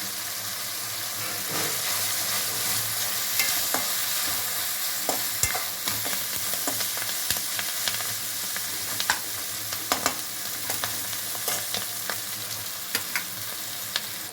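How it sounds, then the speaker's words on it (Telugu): Dried prawns fry in hot oil, a steady, fairly quiet hiss and crackle with scattered sharper pops and occasional stirring scrapes, continuing for about fourteen seconds with no talking. "రొయ్యలు బాగా ఫ్రై అయినండి. ఆయిల్లో మంచి స్మెల్ వస్తుంది."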